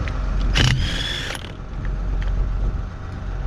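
A 20-ton jack lifts a tractor for a tire change in the field, giving a close mechanical creak and a brief sharp ratcheting clank over a low, steady background rumble.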